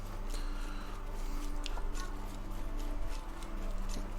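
Horse hooves clip-clop steadily in the video game Black Desert Online, a regular rhythmic trot over a constant low hum of game ambience.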